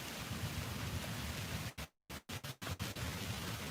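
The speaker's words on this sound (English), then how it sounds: "definitely hearing the rain" Steady rain from a summer storm in Tulsa, Oklahoma, falls near a front porch as a dense hiss, broken briefly by several abrupt dropouts before the wash of rain resumes.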